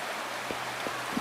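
A steady, even rush of falling water fills the scene by a waterfall in Wuthering Waves, a soft broadband hiss with a few faint low thumps and no voices.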